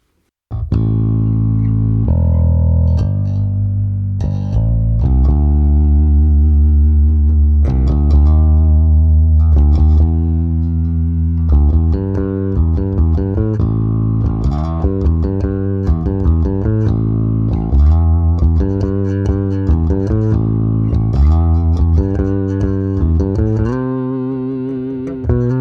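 Bass guitar played through a Laney Digbeth bass combo amp with the tone darkened by the tilt knob, loud and close, a run of punchy notes and riffs with sustained low tones, alone without talk.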